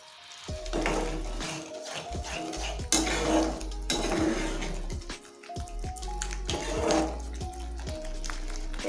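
Spoon stirring butter paneer gravy in a pan, with repeated scraping and clinking strokes against the metal, close and fairly quiet, with pauses between stirs.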